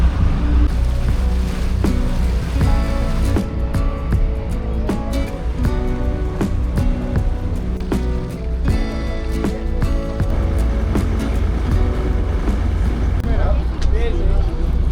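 A fishing boat heading out to sea off Tenerife, its engine droning steadily with wind and water rushing past, while people talk over it.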